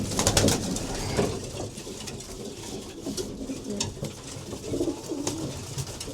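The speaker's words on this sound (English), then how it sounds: "There's a few 2015 pigeons in here." Racing pigeons cooing inside a loft: repeated soft, low coos from several birds over a close, steady background, with light rustling and occasional clinks, and no talking.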